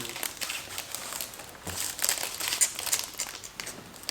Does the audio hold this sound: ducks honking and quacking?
no